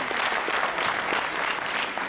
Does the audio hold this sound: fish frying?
no